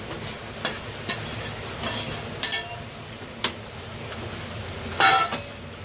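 Onion cooking in a pan, a low background sizzle broken by sharp metallic scrapes and clinks of a spatula against the pan at irregular intervals, nearby and without speech.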